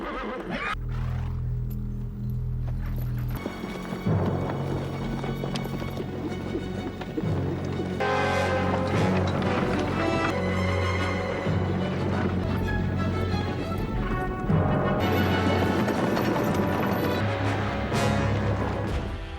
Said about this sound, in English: The earth trembled under the horse's hooves and the kicked-up dust blotted out the sun.